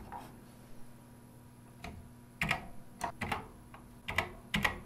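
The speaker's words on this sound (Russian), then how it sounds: "Клавиатура у роботрона, мягко говоря, не очень отзывчивая, поэтому бегло набирать команды тут никак не получается." Keys clack on the stiff, unresponsive keyboard of a Robotron 1715 computer as commands are entered, a slow, uneven scatter of faint clicks and a few sharper presses in a quiet room.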